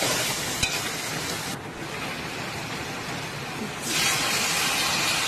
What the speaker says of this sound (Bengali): কিছুক্ষণ ভাজা ভাজা করতে হবে সবজি চাল ডাল